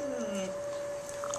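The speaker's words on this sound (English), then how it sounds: "Why is there howling?" A thin, sustained high whine holds steady like a dog howling or whimpering, fairly close, with a faint sliding tone underneath.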